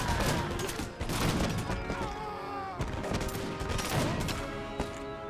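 An American Revolution video game battle in which massed riflemen fire volley after volley, a dense crackling fusillade of overlapping musket shots with battle noise behind it.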